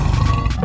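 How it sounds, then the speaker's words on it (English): A cartoon tiger lets out a loud, close, sustained roar, rough and full-bodied, heard alone without talk. "Tiger."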